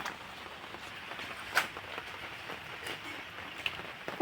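Steady light rain patters continuously at a low level, with a few sharper drops standing out against the soft hiss.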